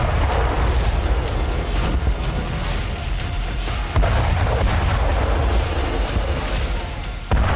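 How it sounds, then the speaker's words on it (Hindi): A TOS-1A multiple rocket launcher fires in combat, giving a continuous, dense roaring rumble broken by repeated sharp bursts and booms throughout. "सेना ने toss 1A multiple rocket launcher से यूक्रेनी चौकियों को ध्वस्त कर"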